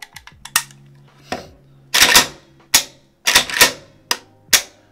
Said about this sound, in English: we're gonna do just a quick function check to make sure that the firearm doesn't fire while in